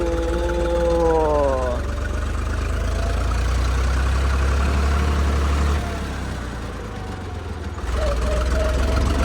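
A tractor engine runs steadily and loud throughout as the vehicle turns near a bridge, with a low rumbling drone, a brief dip in level midway, and a rising whine near the start.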